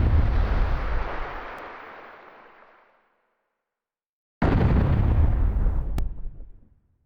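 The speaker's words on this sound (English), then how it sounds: "that is a very loud banging sound. Like something huge is knocking on the wall." Two heavy, booming bangs on a wall in the video game Legend of Legaia, each a loud impact with a long rumbling decay, separated by a brief silence.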